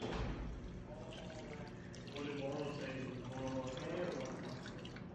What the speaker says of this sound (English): Put the water first and then stir it up.